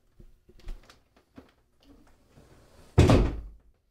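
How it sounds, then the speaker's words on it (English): Footsteps and light shuffling lead up to an indoor door swinging shut with one loud, close slam near the end. "Elijah, go to your room and shut the door."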